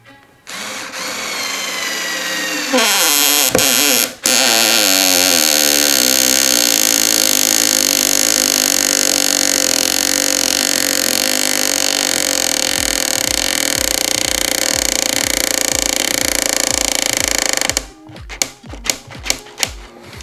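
A Denzel cordless screwdriver drives a screw in a loud, sustained whir that rises in pitch as it spins up, then breaks into a rapid ratcheting clatter as the clutch slips near the end.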